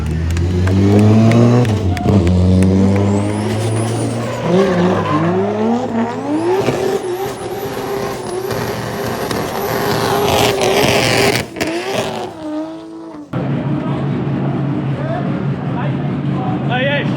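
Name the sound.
car doing a burnout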